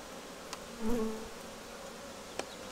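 Honeybees hum faintly around an opened beehive frame, one insect buzzing briefly louder up close over a low steady background.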